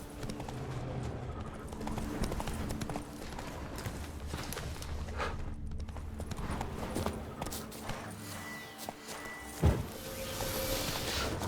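Horse hooves clip-clopping steadily under in-game action in The Witcher 3: Blood and Wine, with a brief sharp thump near the end and a voice heard over the hoofbeats.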